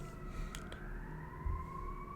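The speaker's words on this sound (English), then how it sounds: "Hold on, y'all, the sirens." Emergency sirens wail faintly in the distance with a slowly gliding tone, steady under a quiet indoor room hum.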